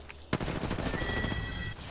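Gunfire in the Apex Legends video game, a sharp close shot followed by a continuous stretch of rapid firing and noisy battle sound, moderately loud with no talk.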